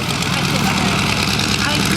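A Fokker triplane replica's engine at the Rhinebeck, New York air show: a loud, steady, low-pitched drone that holds constant without letting up.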